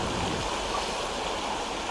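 River water flowing with little whirlpools and ripples, a steady broadband rushing wash heard close and continuous with no talking.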